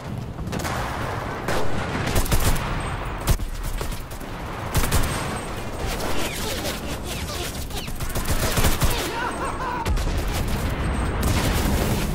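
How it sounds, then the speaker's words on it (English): Gunfire in the World War II shooter Enlisted, dense bursts of rifle and machine-gun shots with heavy booms layered over a constant battle din, loud and continuous. "I'm shooting them in the bunker!"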